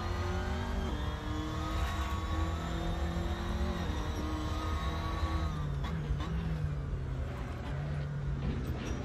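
Race car engine in the video game Assetto Corsa on the Monaco track, loud and continuous, with revs rising and falling through gear changes and a steady rumbling drone underneath.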